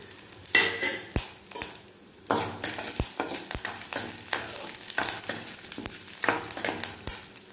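Dried red chillies and curry leaves sizzle in hot oil in a pan while being stirred, with a steady crackling fry broken by sharp scrapes and taps of a spoon against the pan, close and loud.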